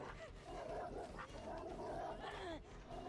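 Dog barking inside the Dead by Daylight horror game, short yips and bow-wow barks repeating through a busy game soundscape, with a person talking over them.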